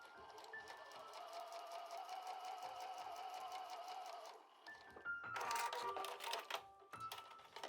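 Home sewing machine stitching fabric panels for a shoulder bag with an outer pocket, a steady rapid needle chatter that pauses briefly and resumes in a louder, busier burst, fairly close with no speech.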